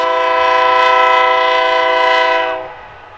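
Next to a baseball park, a passing train's horn blows loud and sustained, then trails off toward the end over the low hum of the ballpark.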